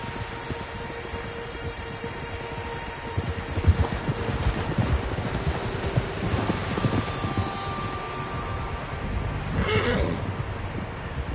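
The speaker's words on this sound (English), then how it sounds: "Horses, quite a few of them." Horses in Red Dead Redemption 2 whinny amid wind and clip-clopping hooves, with one sharp neigh standing out near the end over the outdoor noise.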